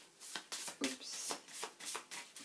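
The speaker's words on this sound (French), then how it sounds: "On va tirer une carte. On va couper comme ça." Tarot cards being cut and shuffled by hand, a run of quick papery riffles and slaps in close succession, near and fairly quiet with no talk.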